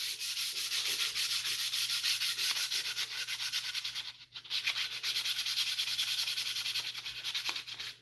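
Sandpaper rubbed back and forth along a guitar neck, a continuous rasping scrape with a steady stroke rhythm, close and fairly loud, briefly pausing midway before resuming.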